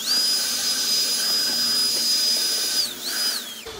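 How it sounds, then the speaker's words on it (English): A vacuum cleaner hoovers the interior of a Fiat Barchetta, a loud steady whining drone with a high tonal whistle that dips as the nozzle moves, then winds down at the end. "Quick little hoover on the other side."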